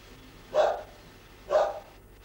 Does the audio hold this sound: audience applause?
no